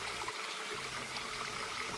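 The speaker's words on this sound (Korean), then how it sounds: "청량하고 맑은 시냇물 소리가 정겹습니다" Clear stream water babbles below Yeongjangsan mountain near the Bokjeong water purification plant, a soft continuous trickle with no voices.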